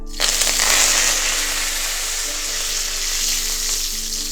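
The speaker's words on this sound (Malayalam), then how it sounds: "ആദ്യം കറിവേപ്പിലിടാം കുറച്ച് കറിവേപ്പില കിഴിയൊക്കെ വെച്ചേക്കുന്നതാണ് അതിടാം" Curry leaves drop into hot coconut oil and burst into a loud, steady sizzle and crackle that holds close and even throughout, with no talking.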